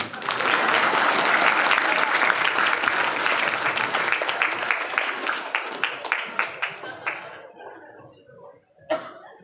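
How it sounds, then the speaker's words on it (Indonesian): Audience at a Maulid Nabi Muhammad celebration breaking into loud sustained applause that gradually thins into scattered individual claps before fading out, ending with a few isolated sounds. "Tepuk tangan loh."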